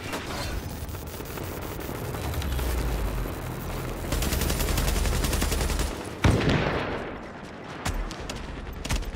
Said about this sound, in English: that fool's shooting through a wall